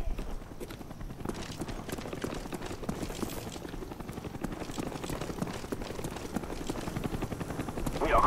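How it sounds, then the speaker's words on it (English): A Cobra attack helicopter in Call of Duty: Black Ops on the Hanoi map makes a rapid, continuous rotor chop that builds steadily louder over the battle noise. "Friendly Cobra inbound."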